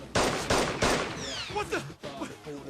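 Three loud, sharp gunshots crack in quick succession at near range in the Persona 4 Arena fighting game, each with a short ringing tail, followed by a voice and other game sounds.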